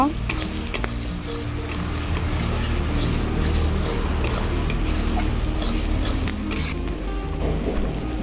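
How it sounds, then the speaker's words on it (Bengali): Spices sizzle loudly in a frying pan as chili powder is stirred in for Bengali chicken kosha, a continuous hiss with a spatula scraping and turning the mixture, and no voices. "নিয়ে দিয়ে দেবো লঙ্কার গুঁড়ো, আবার নেড়ে চেড়ে নেব"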